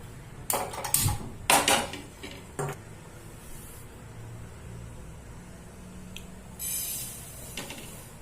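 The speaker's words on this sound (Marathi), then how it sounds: "आपण आता तीळ भाजून घेऊ" Sesame seeds roasting in a pan for sesame laddoos, with a few sharp clinks and scraping clatters of a utensil against the pan early on, then a soft steady background with faint light rattles.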